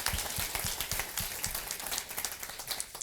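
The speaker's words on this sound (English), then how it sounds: "let's have a round of applause real quick for our" An audience applauds presenters at a business event at the state capitol, a brief burst of scattered hand claps that thins out and fades into softer, sparse clapping.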